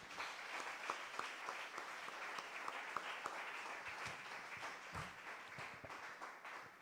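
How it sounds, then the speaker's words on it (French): Church congregation applauding together in steady, sustained clapping that fills the room at moderate distance for the whole stretch. "On acclame le Seigneur Jésus."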